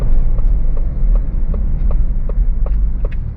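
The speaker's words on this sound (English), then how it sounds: "Nice downshifts" A 2023 Ford Bronco Raptor engine drones loudly and steadily from inside the cabin, with a deep rumble and faint rhythmic ticking running under it.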